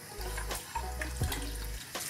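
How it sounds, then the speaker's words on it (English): Running tap water splashes into a sink while a robot vacuum dustbin is rinsed, a steady gushing stream broken by short pauses and shifts as the bin moves under the flow. "Give the dustbin itself a good rinse out to clear any leftover debris."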